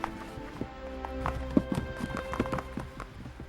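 Footstep sound effects for a Mines of Moria scene play as a clattering run of irregular hard steps with thuds and scuffs, moderately close, with no talking.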